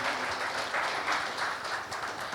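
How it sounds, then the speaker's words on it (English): An audience at a higher-education panel discussion gives a round of applause, a fairly quiet, even wash of many people clapping that keeps up for the whole stretch. "a big round of applause"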